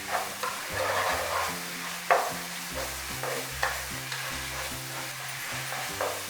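A spoon stirs and scrapes a jaggery kalakand mixture with ghee in a pan, soft sizzling behind repeated rhythmic scraping strokes and occasional clinks, close and moderately quiet.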